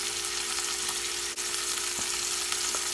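Food sizzles steadily in a hot pan while it is stirred during preparation of a pork steak dinner, with a constant close frying hiss and a few soft scraping stir sounds.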